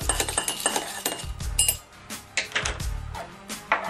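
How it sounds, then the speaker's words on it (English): A pen stirs folded paper slips inside a ceramic coffee mug, producing a run of irregular close clinks and scrapes against the mug wall, with a short pause midway. "Let's pick up a pen and stir it up."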